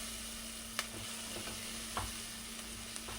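Onions softening in a little oil in a pan, a continuous low sizzle with a few scattered spoon scrapes and taps, quiet and close, no talking.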